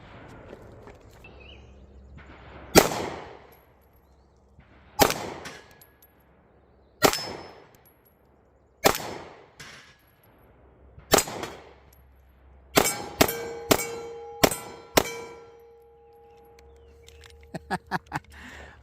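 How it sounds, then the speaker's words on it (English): A Ruger Max-9 pistol with a red dot optic fires at a steel plate outdoors, each sharp crack answered by a ringing clang; shots come singly at first, then in a quick string of six, then a final pair. "when I was shooting at that plate there"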